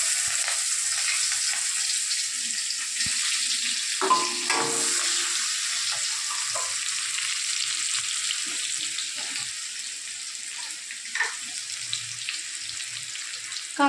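Chopped onion sizzles in hot oil left over from frying fish for a Bengali fish curry: a steady, loud, hissing fry with a few utensil clinks and scrapes, no voices.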